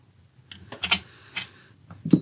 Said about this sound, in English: coming through with our 18mm spanner just to get it snugged up